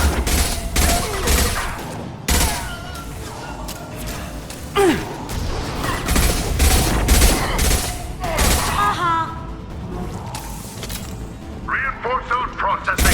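Enemy gunfire and explosive bursts in Mass Effect 2 Legendary Edition combat, loud and dense, with booming impacts, rapid volleys and scattered shots layered over game voices and music throughout.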